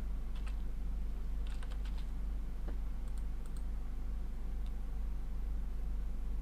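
Computer keyboard typing a short word during an Excel spreadsheet lesson: soft scattered key clicks in a few brief bursts over a steady low hum, fairly quiet, with no voices.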